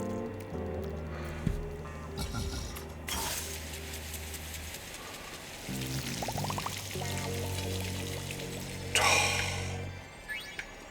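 Water pours and streams in the Luigi's Mansion video game, a steady wet gush with splashy bursts near the start and again toward the end, mixed with game sounds.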